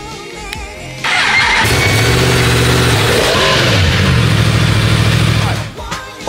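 A motorbike engine starts after a moment of quiet and then runs loud and close, revving up and down steadily before dropping off at the end.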